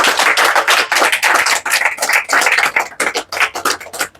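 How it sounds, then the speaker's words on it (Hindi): Sustained applause at a student award ceremony on an Azamgarh agricultural coaching campus: loud, dense clapping from many hands continuing without a break, with brief dips in intensity but no talk. "तालियां बजती रहनी चाहिए भाई"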